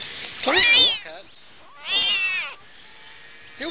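Cat gives two long, loud, drawn-out meows close by with a pause between them, followed by the start of a third.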